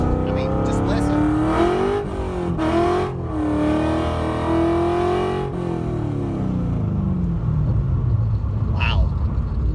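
Car powered by a 302 V8 engine driving by and revving, a deep loud rumble rising and falling in pitch through several throttle blips before easing off.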